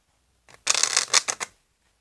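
A deck of playing cards shuffled during a card routine, one quick riffle lasting about a second, close and fairly loud with no talking.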